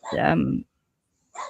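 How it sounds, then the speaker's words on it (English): A dog lets out one loud, close bark lasting about half a second, then silence, with a short burst of sound at the very end. "Yumpy, that's my dog."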